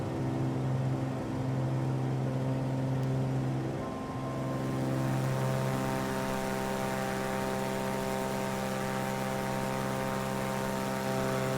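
A steady propeller engine drone from an aircraft in Microsoft Flight Simulator 2020, flying over Java, Indonesia: a continuous even hum with a slight pitch shift partway through and no talk.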